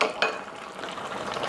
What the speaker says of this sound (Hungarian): habverővel elkeverem